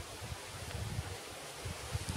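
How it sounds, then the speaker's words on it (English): Wind blowing through autumn woods in Wisconsin, a soft continuous rush with faint rustling and low buffeting gusts, steady and close. "Breezy this morning."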